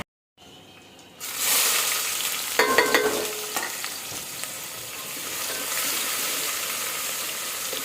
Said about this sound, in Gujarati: તો પહેલાં ફટાફટ દાળ વઘારી દઈએ ને પછી બનાવીએ ઢોકળી.